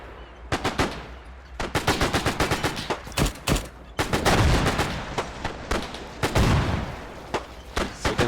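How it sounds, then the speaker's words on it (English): Heavy automatic gunfire in an Arma 3 Pacific beach landing battle at Alligator Creek, with rapid machine-gun bursts and overlapping rifle shots cracking loudly and almost without a break, mixed with sharp single reports and a few deeper booms. "Heavy fire."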